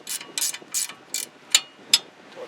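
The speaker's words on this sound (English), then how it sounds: "So now with the 16mm wrench, just going to loosen this nut." A 16mm ratcheting wrench loosens the nut on a Honda Civic tie rod end, giving a close run of about six crisp ratchet clicks at a steady, slightly uneven rhythm with no talk.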